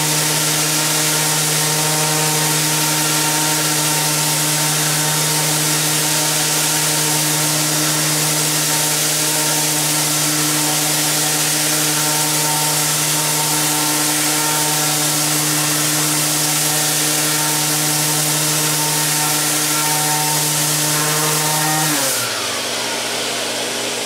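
A Festool ETS 150-5 random orbital sander runs on rough cut cherry wood with a CT 36 dust extractor attached, a steady high motor whine held for about twenty seconds before it winds down near the end.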